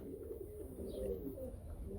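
Young game pigeons resting in the shade on a hot day coo softly and intermittently, faint and close, over low background rumble.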